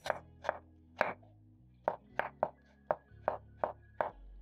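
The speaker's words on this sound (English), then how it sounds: "So I'm going to finely chop up my onion and dice." Eleven sharp knife strikes on a cutting board, spaced unevenly but steady, as an onion is finely chopped close by with no talking.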